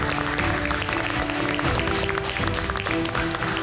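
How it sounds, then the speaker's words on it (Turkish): Studio audience on a Turkish cooking competition show applauds continuously and loudly, while a steady tonal music bed plays underneath. "Hepinizi peşin peşin Gelinim Mutfakta ekibi adına peşin peşin alkışlıyorum."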